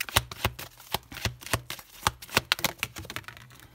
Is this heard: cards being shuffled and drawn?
yes